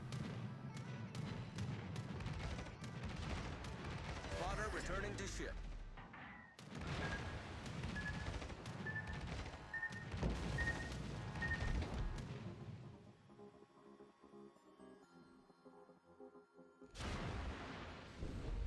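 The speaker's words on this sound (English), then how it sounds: "I'm going to give him one more salvo of HE, then we'll swap to the AP" Heavy salvo booms from a Tier VII Commonwealth battleship firing high-explosive shells in World of Warships, loud repeated blasts and rumbling impacts over about twelve seconds, then quieter game ambience before another burst near the end.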